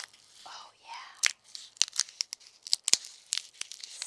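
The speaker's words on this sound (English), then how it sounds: "The pods just crack right open and have these beautiful dark purple speckled beans" Scarlet runner bean pods crack and split open by hand during shelling, giving a run of crisp, close snaps and papery tearing noises in an irregular rhythm, with soft breathy murmuring now and then.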